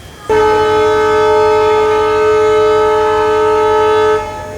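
A diesel-hauled express, the 16545 Yeshwantpur–Sindhanur Express, sounds one long, steady, loud horn blast for about four seconds as it departs Karatagi railway station, then the horn cuts off.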